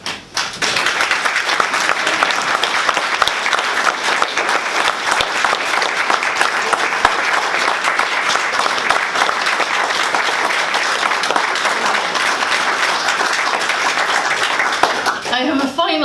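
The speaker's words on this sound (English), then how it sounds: "thank you very much for the applause" An audience at a pre-budget submission launch event applauds after a speech. Dense, sustained clapping fills the room for about fifteen seconds before tapering off at the end.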